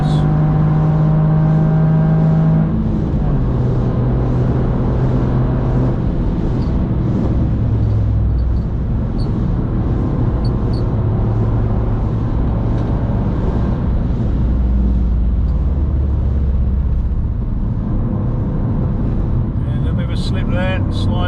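A Toyota GR Yaris at full throttle on the Nürburgring Nordschleife during a track day, its engine roaring loud and close, with droning harmonics that step down at a gear change, while a voice talks over it.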